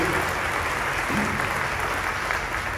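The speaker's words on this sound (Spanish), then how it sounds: "Un aplauso." Steady applause from a church assembly crowd, a dense even patter of clapping that holds at the same level throughout, with no talking.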